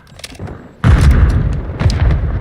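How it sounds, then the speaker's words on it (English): Stun grenade and Semtex blasts in Call of Duty MWII, a quieter thump followed by a sudden heavy, booming explosion that rumbles on loudly with further bursts. "Stun grenade out! Semtex out!"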